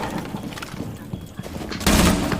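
Gunfire in a Rainbow Six Siege match: scattered sharp shots pop at a distance, then a loud, dense burst of fire erupts close by near the end.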